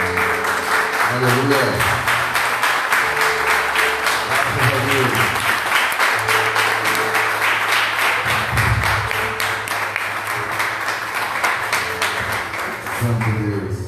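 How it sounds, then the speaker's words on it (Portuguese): A church congregation stands and claps together in steady, loud applause through the whole stretch, with a voice calling out and music playing underneath. "Se coloque em pé e aplauda o nome do Senhor"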